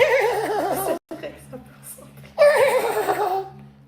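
A woman imitates a horse's whinny with her voice, a loud wavering neigh with laughter mixed in, breaking off briefly before a second quavering burst.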